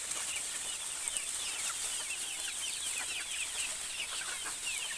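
Many chickens cluck and chatter together at a poultry farm as they gather to a call, a busy overlapping flock chorus at moderate distance.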